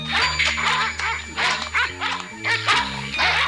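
Enraged dogs bark and yelp in rapid overlapping bursts, loud and close, with a steady low tone running underneath.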